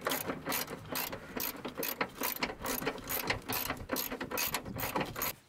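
A ratchet wrench clicks rapidly and repeatedly while tightening a bolt during a car blower motor replacement, close and loud in quick rhythmic bursts with no talking.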